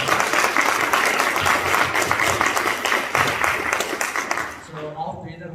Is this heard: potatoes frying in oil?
no